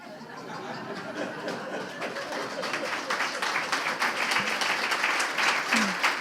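Audience applause at a poetry reading swells steadily from moderate to loud, a dense continuous patter of many hands clapping, with a few chuckles and a voice briefly heard.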